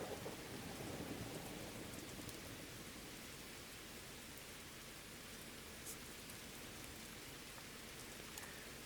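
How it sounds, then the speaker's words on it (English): Steady rain and rolling thunder from a storm in the train-driving game Derail Valley, a dense continuous wash of rainfall with low rumbles throughout, no voices. "So the thunder and lightning isn't helping, is it?"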